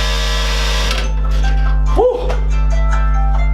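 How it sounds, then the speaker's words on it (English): A wake-up alarm sounds in a steady electronic tone against a constant low hum, with a person exhaling loudly partway through. "That's my alarm to wake up anyway."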